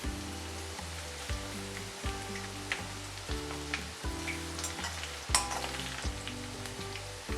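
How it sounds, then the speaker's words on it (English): Finely chopped garlic and green chilies saute in a pan for a spinach-potato dish, with a steady hissing sizzle and occasional stirring scrapes under soft background music. "Add 2 teaspoons finely chopped garlic and saute well. Add 2 finely chopped green chilies."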